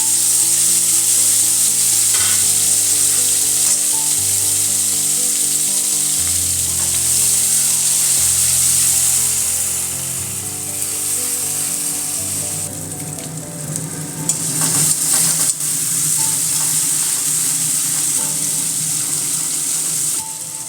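Paste of fried onion, tomato, ginger, garlic, cashews and raisins added to hot oil in a pan, a loud continuous close sizzle that swells and crackles as it is stirred, no voices.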